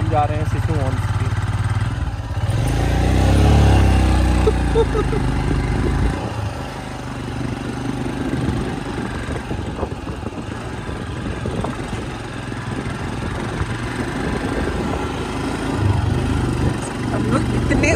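Motorcycle engine droning as the bike climbs uphill in the Lahaul Valley, louder and near at first, then settling into a steadier mid-pitched hum while people talk over it.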